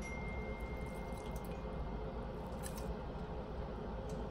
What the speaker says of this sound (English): gonna pour the noodles in there.